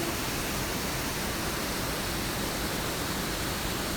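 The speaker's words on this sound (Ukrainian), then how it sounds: "ми змогли помилуватися водоспадами на річці Суків два невеличких водоспади" Two small waterfalls on the Sukiv river in the Carpathians, a steady broadband rush of falling water, close and constant with no pauses.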